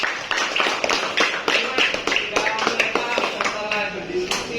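Students clapping together in a classroom, quick uneven hand claps in a lively burst that continues throughout, with voices talking underneath.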